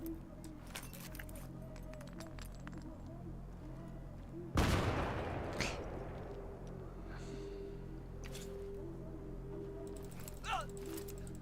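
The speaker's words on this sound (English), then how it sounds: "Check this out. Grenade. Let's see how this sounds." A grenade goes off in Starfield with one loud, sudden blast, followed by a rumbling tail and a few scattered pops. Mechanical clicks and faint game sounds come before it.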